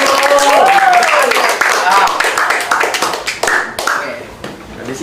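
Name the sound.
classroom applause for a student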